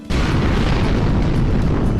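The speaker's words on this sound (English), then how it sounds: "they rigged the bridge to blow" A bridge blown up in Grand Theft Auto III: a sudden loud blast followed by a sustained, roaring rumble of debris and fire that fills the whole moment.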